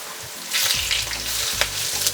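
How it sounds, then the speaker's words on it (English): Plant-based fish substitute frying in a pan for a Ghanaian kenkey lunch, a steady close sizzle with occasional scraping and stirring clatter, loud and continuous with no talking. "we'll just leave that frying for a bit while the Kenkey still is cooking"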